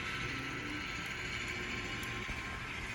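A model railroad Jeep locomotive pulls a ten-car train along newly laid track, giving a steady, continuous mechanical whir and faint gear clatter at an even level throughout.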